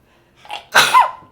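A single loud, close human sneeze: a short indrawn breath, then an explosive burst with a trailing voiced tail, heard alone without talk.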